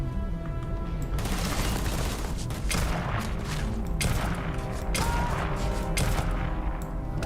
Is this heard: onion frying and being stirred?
no